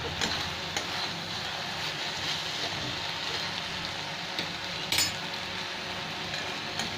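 Kolmi shaak (water spinach) sizzling with fried onions in a pan, a steady dense crackle of frying with a few faint utensil clinks, close and continuous with no talk.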